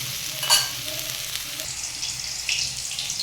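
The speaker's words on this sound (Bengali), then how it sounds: "এখন এই পাশটাও আমি ভালোভাবে ভেজে নেব" Lentil-paste fritters (bora) made with ground masoor dal, peas and thankuni leaves crackle and sizzle steadily in hot oil in a pan, with a brief louder spatter early on as they fry on their second side.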